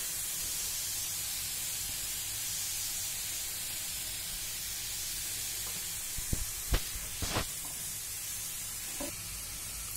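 Steady soft sizzle of grated carrot halwa frying with coconut in a pan, a constant hiss with a few faint clinks of a spoon near the end.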